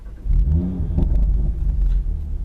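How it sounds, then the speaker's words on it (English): A 2017 Audi TT RS engine fires up with a short, loud bark and a pop, then settles into a deep, rumbling idle close by, with no voices. "Turn it on straight away and there's a little bark and a pop, which I like."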